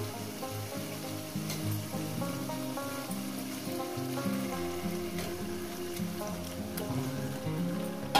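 Chicken pieces sizzling as they hit hot masala in a pan for a Bengali chicken kosha, a steady close frying crackle under layered low clatter and stirring, with no voices.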